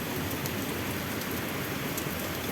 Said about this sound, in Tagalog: Suddenly heavily rain, guys.